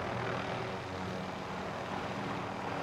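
Video game helicopter in flight, a continuous loud engine and rotor drone that holds steady and close for the whole stretch, with no talking.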